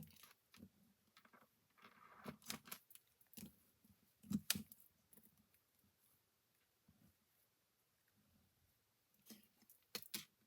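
Scissors trim paper for a scrapbook page in a quiet room, making a series of soft, close snips and rustles in short clusters with pauses between them.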